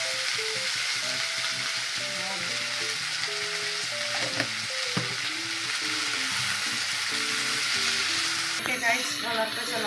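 Cumin and sesame seeds fry in a hot pan with steady, dense sizzling, and a spoon stirs them in repeated scraping strokes throughout. The sound is close and continuous, with no talking.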